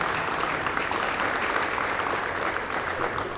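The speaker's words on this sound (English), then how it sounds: "let's give a round of applause for that." Steady applause from an audience at a community center expansion ribbon cutting, a dense continuous clapping that holds evenly for a few seconds without talk over it.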